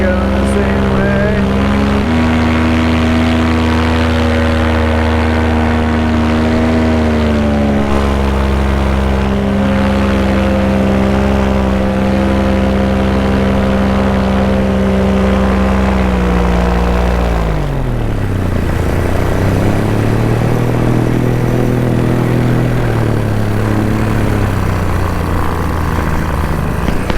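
A Vittorazi Moster 185 MY-20 paramotor engine at takeoff, a loud steady propeller drone held close and continuously, with the pitch dropping and shifting as the throttle and distance change, near a field with a windsock.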